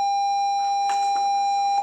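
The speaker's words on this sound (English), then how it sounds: "Is that a real beep?" A steady electronic beep tone holds for nearly two seconds, with a brief muffled voice breaking in partway through.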